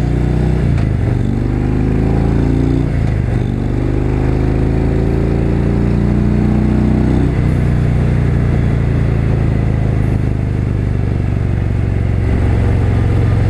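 A 2017 Harley-Davidson Road Glide Ultra motorcycle engine heard close up, a loud low rumble with several rising throttle blips and revs, then settling back to a steady idle.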